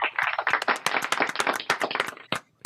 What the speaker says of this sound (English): I am going to roll out a big round of applause for all the veterans listening today